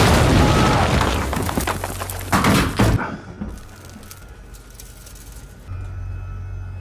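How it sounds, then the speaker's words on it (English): A tank cannon fires in a war film: a loud, heavy boom with a rumbling, debris-filled tail, another sharp blast just after, then a lower sustained rumble that swells again near the end. "who is in the back, immediately fires a cannon"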